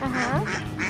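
A single short, nasal duck quack from a Plants vs. Zombies game, close and clear, lasting under a second.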